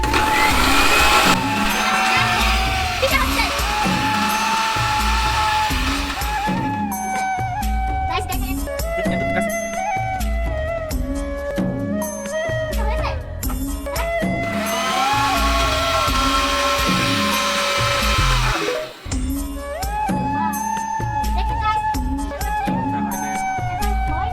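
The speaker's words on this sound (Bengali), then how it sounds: "আদা রসুন ব্লেন্ডার করা শেষ" A blender whirs loudly and continuously, grinding ginger and garlic with a harsh motor whine that surges and pulses, briefly easing before running on again.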